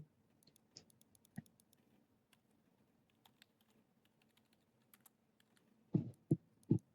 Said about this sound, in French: moi aussi, je peux les faire les bruits de clavier